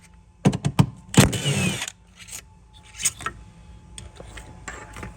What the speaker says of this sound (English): Next step, you can take off these two 10mm bolts.